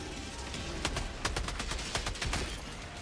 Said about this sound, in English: My Gatling gun going crazy.